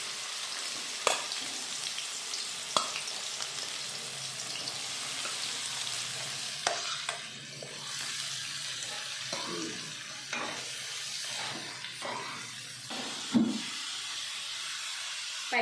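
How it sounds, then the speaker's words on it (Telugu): Chopped onions sizzle and hiss in hot oil with cumin in a pan for a homemade brinjal curry, a continuous frying crackle broken by occasional sharp clinks and scrapes of stirring. "చూడండి, ఇలా వేగుతుంది కదా, ఉల్లి బాగా వేగాలి."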